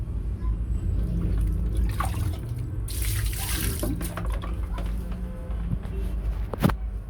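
Water runs steadily from a tap into a sink during handwashing, a close continuous splashing rush that briefly swells louder partway through.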